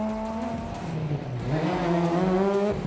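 A Honda S2000 race car slides through a corner with its rear wheels locked, its engine note sweeping and changing pitch against tire noise, loud and close, with no voices.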